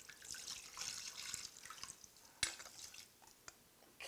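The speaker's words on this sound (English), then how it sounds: "We want to just cover everything now with the water." Water poured from a tap or jug into a cooking pot of veal, a steady splashing trickle with drips, fairly close and alone, with a sharper splash near the middle.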